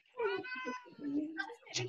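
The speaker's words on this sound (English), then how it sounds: "That is one very unimpressed cat there." A reluctant cat being picked up lets out a string of drawn-out, wavering meows up close, some rising into a whiny caterwaul, while people talk over and between the cries.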